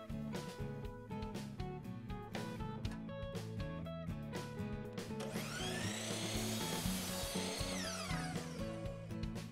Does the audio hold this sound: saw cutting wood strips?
yes